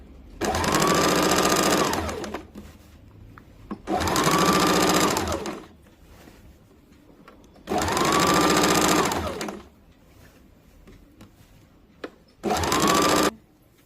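A sewing machine double-stitches a seam on a kurti in four loud, close bursts of a few seconds each, separated by short pauses.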